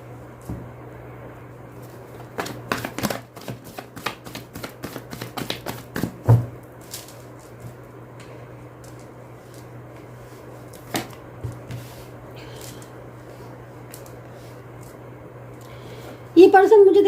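Tarot cards being shuffled and handled up close, a burst of quick riffling taps followed by sparse single snaps and card handling, with a voice speaking at times.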